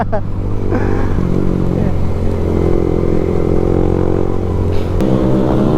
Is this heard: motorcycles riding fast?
yes